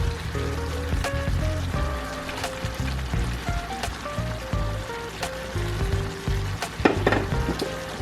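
Creamy seafood mac and cheese stirred in a pan after fresh parsley is added, a steady wet sizzle with soft scraping and sloshing, fairly close, continuous throughout.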